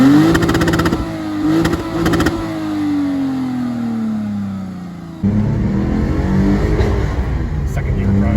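Manual 2007 Lexus IS 250 engine revving hard through a pull, rising tone climbing then dropping at a gear change before climbing again, loud and close with brief talk over the start.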